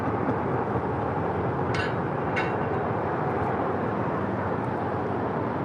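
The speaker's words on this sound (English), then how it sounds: "It's a 747-400 freighter." China Airlines Boeing 747-400 cargo freighter at an airport, a broad, steady jet engine roar holding at even loudness with no voices.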